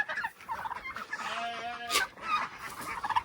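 A farmyard poultry flock of turkeys and ducks calls continuously, with overlapping clucks and a rising turkey gobble near the middle, close and fairly loud with no talking.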